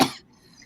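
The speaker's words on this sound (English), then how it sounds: "A symphony of coughs." A single short, sharp cough bursts out close to the mic, trails off into a quiet gap, and a second cough starts right at the end.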